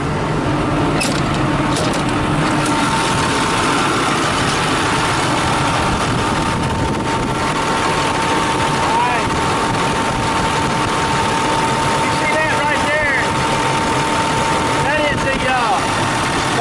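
A John Deere loader's diesel engine idles steadily and loudly throughout, a continuous low rumble with occasional higher whines, while a person talks over it.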